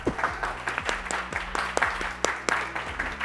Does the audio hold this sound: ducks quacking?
no